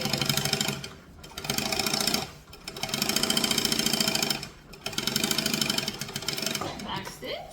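Sewing machine back stitching a seam on a Lucy by Swoon project, a loud, steady whirring motor in several bursts separated by short pauses.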